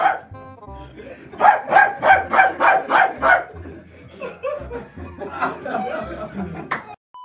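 A rapid run of six or seven close, loud, evenly spaced yappy calls like a dog barking, followed by softer chuckling and laughter from people.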